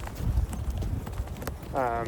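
Packhorses grazing on a summer pack trip make scattered, close hoof clops on the ground, with a person talking over them.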